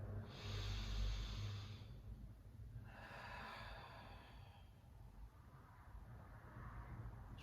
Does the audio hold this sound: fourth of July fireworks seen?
no